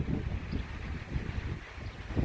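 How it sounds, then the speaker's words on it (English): A gust of wind blows outdoors, buffeting the microphone with low rumbling surges for a couple of seconds, no voices. "But here comes a big wind."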